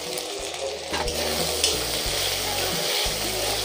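Tomato goes into a hot pan of oil for a Bengali sea fish (satin fish) curry, giving a continuous close sizzle with low scraping and stirring knocks of a spatula against the pan.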